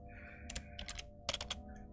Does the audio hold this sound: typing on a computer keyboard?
yes